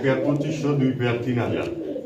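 Pigeons coo repeatedly at a busy pigeon market, large birds sold in pairs, with steady low cooing under near constant talk from buyers and sellers.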